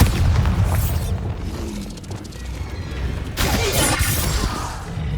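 A Bombarda blast spell in Hogwarts Legacy detonates as loud booming explosions with shattering crashes. A heavy burst opens, then a quieter stretch, then a second big crash that rolls into debris-like noise.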